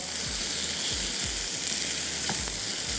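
Onions softening in a hot pan give off a steady, dense sizzle throughout, with a few faint scrapes of stirring near the end and no voices.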